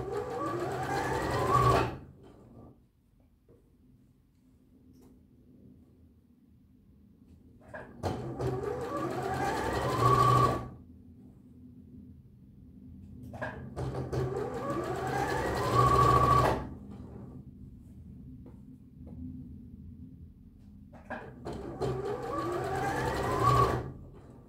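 A sewing machine stitches fabric without pins for a tunic or dress, running in four separate quiet bursts of rapid needle clatter with near-silent pauses between them.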